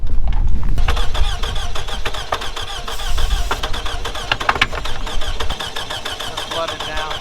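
A high-mileage car engine cranks in a fast, even chugging rhythm as it tries to fire on three cylinders, loud and close, with someone talking over it.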